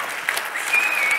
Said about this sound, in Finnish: Aplodit sille!